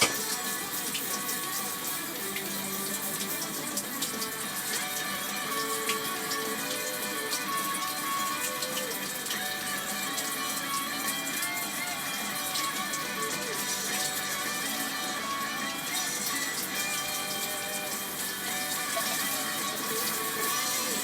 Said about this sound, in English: I have to clean out my brushes real quick, so I'm going to wash this out